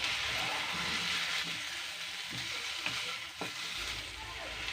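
Chicken pieces dusted with black pepper frying in a pan, a steady sizzle under occasional scraping and stirring knocks from a spatula, close and fairly soft, no voices.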